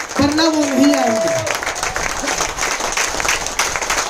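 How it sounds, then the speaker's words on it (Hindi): Loud audience applause at a training event welcoming a speaker to the stage, a dense sustained wash of clapping; a voice talks over the first second and a half before the clapping continues alone. "एक बार जोरदार ताली हो जाए"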